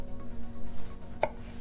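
Ripe tomatoes being chopped for a pork loin marinade, a knife tapping the board in soft repeated cuts with one sharper knock near the end, close and without talk.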